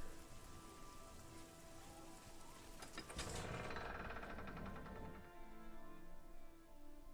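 Steady rain pours in The Elder Scrolls IV: Oblivion, a dense hiss of drops on the ground that swells heavier partway through, with no talking.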